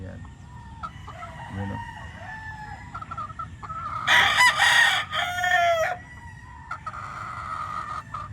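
Gamefowl roosters crow loudly in a burst midway and cluck around it at close range, while someone speaks briefly over them.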